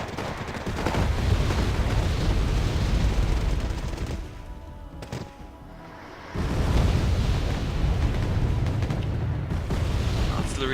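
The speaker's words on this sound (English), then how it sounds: "Artillery being dropped down as well." Artillery explosions and heavy gunfire roar from the Wargame AirLand Battle video game, a dense, loud rumble of blasts that dips briefly in the middle before surging back, with a voice talking over the barrage.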